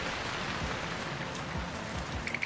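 Unpredictable rain showers fall on a weather-sealed Leica HDS laser scanner outdoors, a steady, fairly loud broadband patter and hiss throughout, with a few sharper drop hits near the end.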